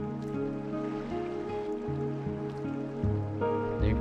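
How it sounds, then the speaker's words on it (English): Gentle ocean waves wash softly in the Chrono Cross video game, a quiet, steady surf beneath a calm melodic tune. "The tranquil sound of the waves make me..."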